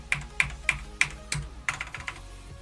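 Rapid clicky keystrokes on a computer keyboard, a steady run of distinct taps followed by a quicker flurry, close and dry with no talking.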